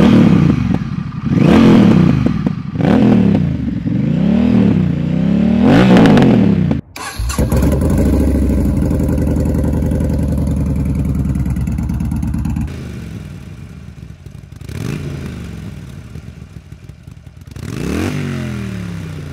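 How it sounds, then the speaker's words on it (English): A Honda Rebel cruiser motorcycle engine revs up and down in repeated surges, then settles into a loud, steady, lumpy idle with a few more throttle blips. "Let's take a quick sound clip of this motorcycle at idle and under power"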